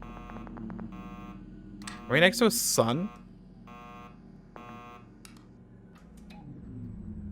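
Repeated short electronic beeps sound in a space survival video game called Tin Can, steady and evenly spaced, with someone talking over part of them.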